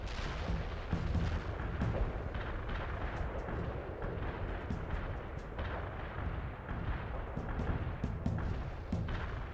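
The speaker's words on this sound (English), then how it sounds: "Artillery barrage turned the target area into dust." Heavy artillery barrage in the World in Conflict war game: dense, continuous rumbling booms and blasts overlapping without pause, loud and sustained with repeated sharper impacts throughout.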